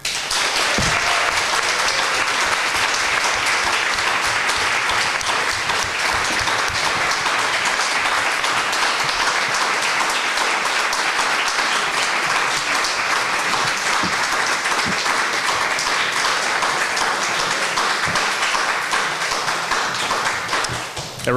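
A crowd at a school board of education candidates forum applauds loudly and steadily, with dense, continuous clapping that holds for about twenty seconds before tapering off at the very end.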